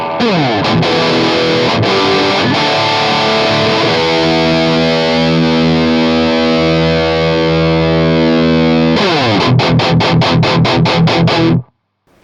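Heavily distorted electric guitar through a Metal Zone distortion pedal in standard tuning plays loud, chugging palm-muted riffs, with a long sustained chord in the middle before the rhythmic chugging returns and stops abruptly.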